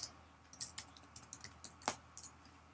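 Quick, irregular clicking of keys on a computer keyboard, close and fairly soft, in short bursts of a dozen or so keystrokes with no voices.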